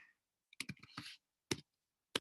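Keys on a computer keyboard are typed in a few sparse, crisp clicks, one short cluster followed by two isolated taps, close and quiet.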